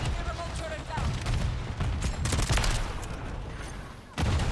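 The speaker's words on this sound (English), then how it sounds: "Tossing Semtex." A Semtex grenade in Call of Duty: Modern Warfare 3 leads into loud bursts of gunfire and booming blasts, rapid cracks layered over a rumbling low end before a brief pause and another burst.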